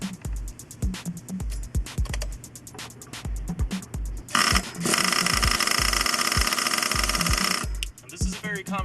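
A K5.9 engine during static break-in is cranked over and over in quick rhythmic chugs that catch and briefly roar into a loud, steady running burst before dropping off, heard close and loud.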